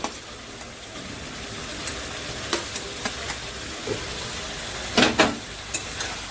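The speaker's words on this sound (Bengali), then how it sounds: "এবার দিয়ে দেবো ব্রকলিটা ব্রকলিটা দিয়েও আমি একটু কষিয়ে নেব" Broccoli sautéing with catla fish masala in a pan, a low steady sizzle under scattered scraping stir strokes, with a brief louder clatter near the end; no one speaks.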